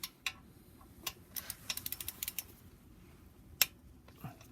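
Quiet ratcheting clicks from a wrench tightening a flywheel bolt on a BMW N54 engine, coming in short irregular bursts of sharp ticks, close by and faint, with no talking.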